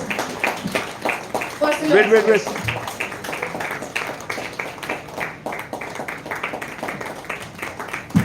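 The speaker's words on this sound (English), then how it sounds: "you alone clap for that person." An audience at an international convocation ceremony in a Mumbai Hilton claps in a short burst between stretches of a speaker talking into a microphone.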